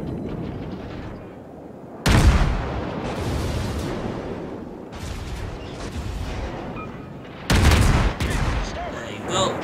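Heavy naval gun salvos from warships in World of Warships boom out in three loud bursts, each followed by a rolling, rumbling decay, over a continuous low battle din.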